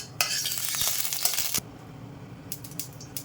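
Mustard seeds in hot oil for a beetroot curry: dense, loud spluttering and crackling up close, which breaks off sharply and is followed by scattered pops and light clinks.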